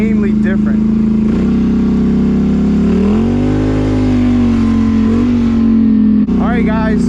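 Straight-piped 850 four-wheeler engine revving loudly and close, a steady throaty roar that swells and dips in pitch through the middle before cutting back, with no talk over it.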